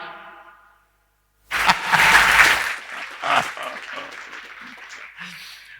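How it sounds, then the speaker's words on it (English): A market research seminar audience breaks into clapping after a tonal sound fades to silence, starting with a loud burst of applause that thins into scattered claps, with some voices heard underneath. "You can clap if you want."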